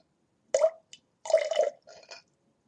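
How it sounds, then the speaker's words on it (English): Chocolate liqueur and vodka poured into a cocktail mixer in a few short, close liquid splashes and drips separated by brief silences. "we're just going to put in the cocktail mixer the chocolate liqueur and vodka"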